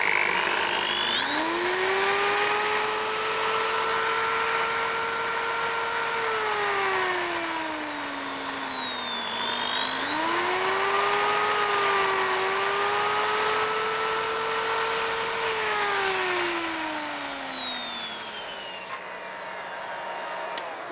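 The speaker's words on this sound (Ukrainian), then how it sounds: "Давайте вставимо дрель, перевіримо." An electric drill powered through a 12/220 V Tataliken-1600 inverter whines steadily at high speed, its pitch sagging and rising as it runs, then spinning down near the end.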